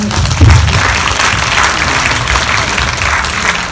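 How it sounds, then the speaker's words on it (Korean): Dense, steady applause from a large audience at a 2018 Busan International Film Festival Q&A for Burning, swelling briefly near the start and then holding a full, even roar throughout. "박수 한 번만 부탁드릴게요."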